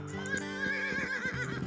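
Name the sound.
horse-drawn chariot whinny, Age of Empires video game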